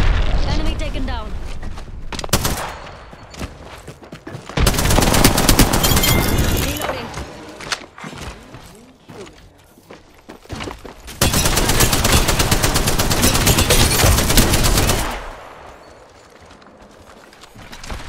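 A light machine gun firing in Apex Legends, held by Rampart, delivers long dense bursts of rapid close gunfire, broken by short quieter gaps, with talk passing through the quieter stretches.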